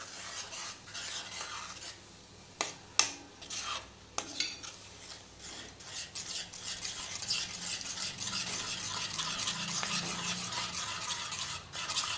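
Paneer tikka gravy mixed with milk is stirred in a pan, a steady scraping of a spoon against metal with a few sharp clinks early on, then a continuous soft sizzle and bubbling, close and without talk.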